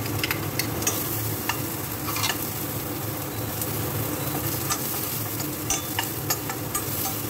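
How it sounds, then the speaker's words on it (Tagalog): Garlic and onion sauté in a pan for laing with shrimp and ground pork, a continuous close sizzle broken by scattered scraping stirs and spatula clicks. No speech is heard. "Lagay natin, mga tropa, ang ating sibuyas."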